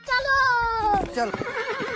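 A horse whinnies loudly and close in a comic dubbed scene, the neigh falling in pitch over about a second before breaking into shorter snorting calls, with light background sound.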